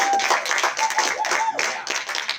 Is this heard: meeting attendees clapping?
yes